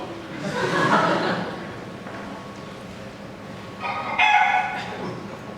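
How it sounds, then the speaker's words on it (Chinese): A rooster sound effect in a staged audio drama crows twice: one loud call near the start, then a second after a short pause. "奇怪，厕所怎么有公鸡啊？"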